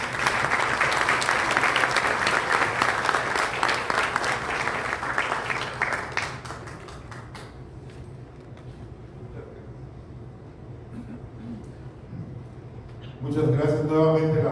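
A lecture audience gives a doctor dense, steady applause after his talk at a Spanish-language education forum; the clapping fades away after about seven seconds, leaving a quiet room, and a voice begins speaking near the end.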